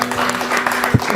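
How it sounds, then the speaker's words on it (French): A television studio audience claps for Sidibé in a short, dense burst of applause, loud and close, with a few sharper individual claps standing out. "Applaudissez pour Sidibé,"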